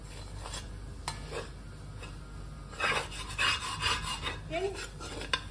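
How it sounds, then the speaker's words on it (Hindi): Fenugreek seeds roasting in a little ghee, stirred and scraped with a steel spatula in a pan; soft intermittent scraping and rubbing, louder in the second half, with faint sizzle. "इसमें मैंने 2 टेबलस्पून घी डाला है और ये हम मेथी इसमें डाल के और सेकेंगे।"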